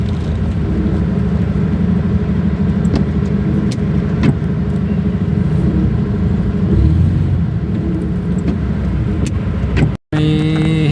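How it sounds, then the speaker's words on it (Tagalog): A garbage truck on a narrow road, heard as a loud, continuous low engine rumble and road noise from a nearby vehicle, with a brief sharp dropout near the end. "May hinto muna tayo kasi may truck ng basura."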